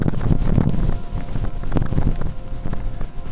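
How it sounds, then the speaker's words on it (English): Strong wind buffets the microphone at night near the Marston Moor battlefield, a loud, continuous roaring rumble with gusty surges throughout. "It's a little bit windy, so apologies if you can't hear me fully."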